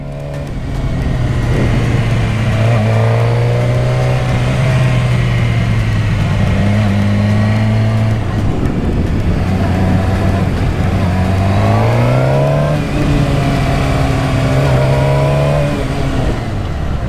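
A motorcycle engine runs continuously while riding laps on a track, revving up and easing off in repeated sweeping cycles, loud and steady throughout with no talking.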